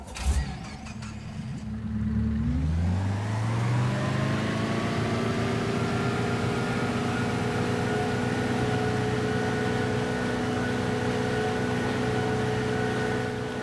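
A speedboat engine in the Farming Simulator 25 game starts with a rough low rumble, then climbs into a steady, droning hum that holds for over ten seconds, close and continuous with no talk.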